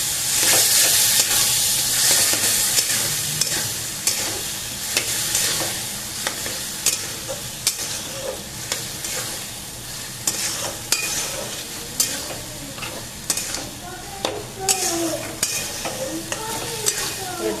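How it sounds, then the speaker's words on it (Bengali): Vegetable curry with peas, chickpeas and potatoes sizzles in a pan of fried spices while a utensil stirs and scrapes it in irregular strokes, a close, steady frying hiss broken by sharp clinks. "মটর, ছোলা, আলু দিয়ে একটা সবজি করছি।"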